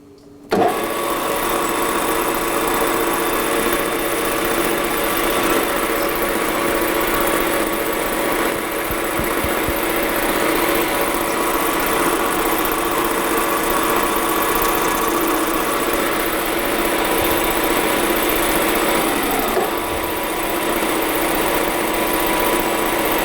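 A metal lathe runs steadily through a cut of roughly one millimetre on a workpiece, a continuous motor hum and machining drone holding at a near, even level for the whole stretch with no talk.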